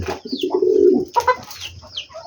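Pet pigeons kept in a large cage coo up close, several rolling low coos with brief pauses between them.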